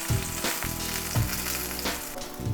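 Salmon fillet frying skin-side down in a hot pan, a steady close sizzle with bursts of spattering and crackling throughout, no talk.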